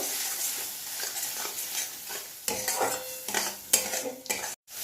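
Spiced prawn masala being stir-fried in a pan, with rapid scraping and clattering of a spatula against metal over a soft sizzle, ending in a short pause.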